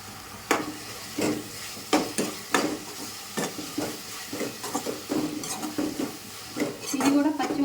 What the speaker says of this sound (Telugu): ఈ అల్లం వెల్లుల్లి పేస్ట్ వేసేసి ఇది కూడా పచ్చివాసన పోయే వరకు వేయించుకోవాలి